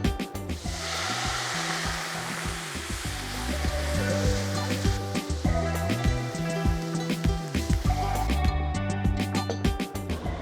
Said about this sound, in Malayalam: ഇതിലേക്ക് നമുക്ക് ഉലുവ വെള്ളം തിളപ്പിച്ച് നമുക്ക് ഇതിലേക്ക് ചേർത്ത് കൊടുക്കാം